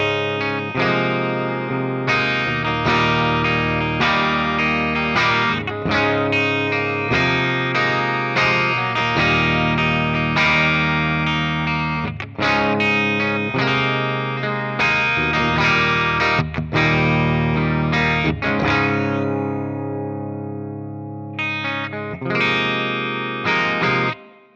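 Electric guitar through a TONEX amp capture on the clean channel with a 1990 greenback cabinet, bridge pickup, bright sparkling chords and arpeggios strummed continuously and loudly for over twenty seconds, no talking.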